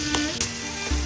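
Oil sizzling and frying in a cooking pan, a loud, steady hiss close by with a few sharp crackles and stirring scrapes, heard alone without voices.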